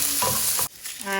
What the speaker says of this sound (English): while the onions are cooking